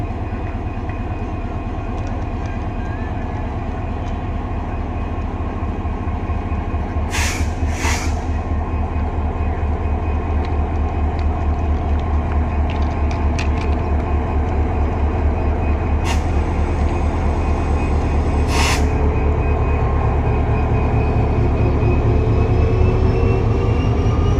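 A train pulls slowly out of Jadavpur station with a loud, continuous rumble of wheels on rails, a few sharp squeals and clanks rising above the steady drone.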